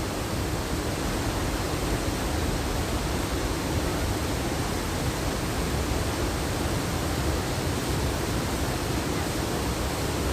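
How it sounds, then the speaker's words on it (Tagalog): Sea waves building in strength at a waterfront, a dense, constant roar of surf with no breaks or voices, loud and close throughout. "Ayan, lumalakas na ang alon."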